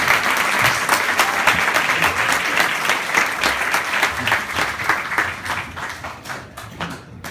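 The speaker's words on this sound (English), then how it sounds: "Well, ladies and gentlemen, huge round of applause." A wedding reception audience gives a big round of applause for the bride and groom, dense clapping from many guests that stays loud and even, then thins and tapers toward the end.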